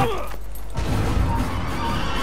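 A horse in Assassin's Creed neighs loudly across the whole stretch, a drawn-out whinny with a burst of clip-clop hoofbeats partway through, standing alone without talk.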